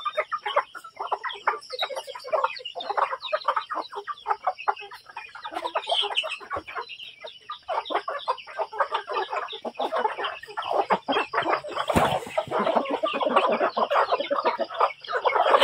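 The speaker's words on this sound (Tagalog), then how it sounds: "Klase-klase po yung mga manok." Chickens cluck and chatter continuously, many birds close by in a busy, overlapping flock with a brief louder squawk partway through.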